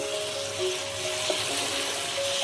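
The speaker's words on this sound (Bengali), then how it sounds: "মশলাটা দিয়ে আমি এটা ঝিঙেগুলো দিয়ে একটু কষিয়ে নেব, একটু সামান্য কষিয়ে নেব" Ridge gourd sautéing with spices in a pan gives a steady, close hiss and sizzle that holds evenly throughout, with a faint tone running underneath.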